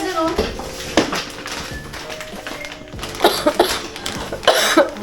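A few short coughs ring out amid lively indoor chatter and children's voices, with some tapping and knocks nearby.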